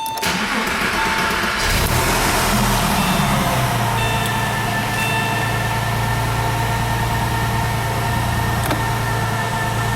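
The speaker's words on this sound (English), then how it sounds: "I'm gonna jump in and actually start the car up, let you listen to it idle" A 2000 Porsche 911 Carrera 4 Millennium Edition (996) engine starts up with a brief rev, then settles into a steady, low rumbling idle that continues close by.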